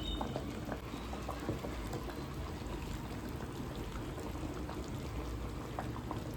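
A quick lunch-box dish bubbling in a pot, a dense continuous boil of gurgling liquid and tiny pops, close and even throughout with no voices.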